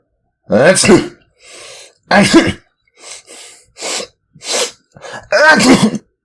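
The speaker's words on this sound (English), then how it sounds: "Three more sneezes sounded, louder than ever." A series of loud, close sneezes in separate bursts with short breaths between, a voice acting out the sneezes in a reading of Pinocchio.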